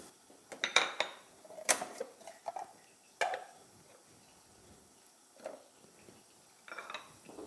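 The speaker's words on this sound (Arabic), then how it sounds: "ندير هاد لوبرجين تنطحن" Aubergine being mashed in a metal pot or bowl with a utensil, close and fairly faint, with irregular scraping clinks and taps scattered across the scene, no talk.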